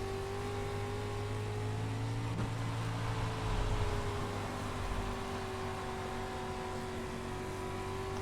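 Dirt street stock race car at Volusia in iRacing, its engine holding a steady, droning tone with clear harmonics, swelling briefly mid-way before settling back to an even pull.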